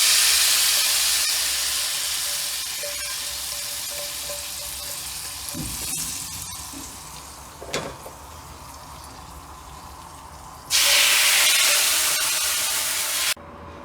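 Spiced masala poured into a Kerala pomfret fish curry, with a steady hiss of frying and sizzling throughout, a few soft clinks and stirring sounds, and a louder burst of sizzle near the end.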